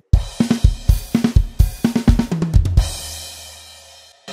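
Drum fill from the final chorus of a song, a quick run of snare and tom hits stepping down in pitch, ending on a crash cymbal that rings out and fades, close and loud with no talk.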